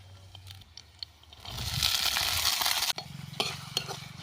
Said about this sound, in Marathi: आता वाल आपल्याला चांगले परतून घ्यायचे आहेत डाग पडेपर्यंत.